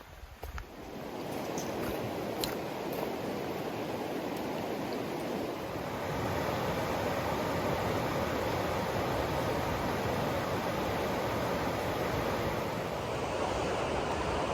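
Deep river in the Smoky Mountains near the Little Bottoms Trail, rushing as a steady, loud broadband wash that holds level throughout with no talk.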